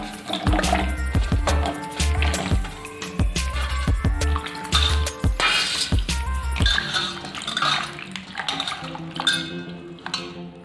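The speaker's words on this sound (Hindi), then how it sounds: "काटने के बाद इसे धुल लेंगे।" Cut mango pieces being washed in water in a kitchen, with splashing, sloshing and dripping plus clattering knocks of a bowl or pot, busy and close throughout with no voices.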